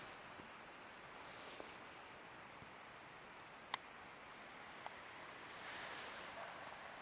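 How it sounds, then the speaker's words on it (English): A waterfall in April woods comes through as a faint, distant, steady rushing hiss, with a few small clicks and a light swell of wind near the end, and no one speaking. "you can hear the waterfall"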